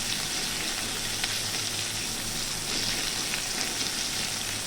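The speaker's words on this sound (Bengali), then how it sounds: "পেঁয়াজটা একটু লাল লাল করে ভেজে নেব।" Chopped onion frying in oil over high flame, a dense, even sizzle that crackles steadily throughout with no voices over it.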